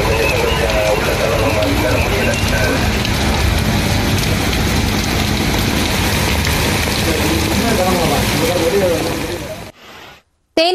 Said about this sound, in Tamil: திருநெல்வேலி மாநகராட்சியின் பல்வேறு இடங்களில் சூறைக்காற்று இடி மின்னலுடன் கனமழை பெய்தது.